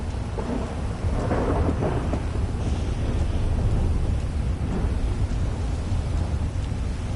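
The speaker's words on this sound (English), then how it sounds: "that thunder is really shaking" A thunderstorm in GTA 5, with steady heavy rain and a deep rolling rumble of thunder that swells in the middle, loud and continuous, no voices.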